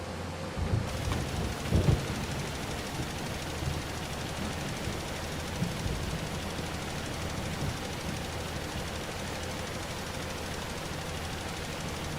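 Steady rain with low thunder rumbles in Farming Simulator 25, a continuous broadband wash with a couple of heavier rolls near the start, heard alone without talk.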